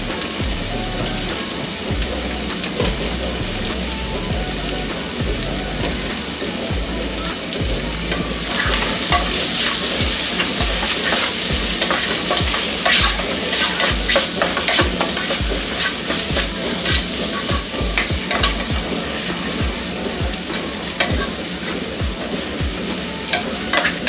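Tomatoes fry in oil for chana masala, a steady close, loud sizzle crackling on and off through the whole stretch, with no voices.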